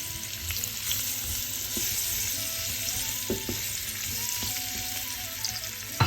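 Fresh figs and potatoes fry in a pan with a steady, even sizzle that holds for the whole stretch, with a few soft stirring clicks over it.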